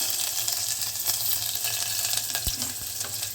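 Five-spice seeds and a ginger-garlic-green-chili paste fry in hot oil for a beet and carrot curry, giving a steady, close sizzle with a couple of sharp utensil taps near the end.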